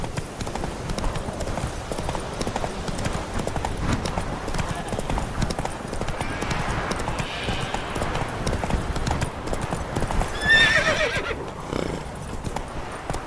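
A horse in The Witcher 3 gallops with a steady rhythmic clip-clop of hooves and neighs loudly near the end, with game sounds around it.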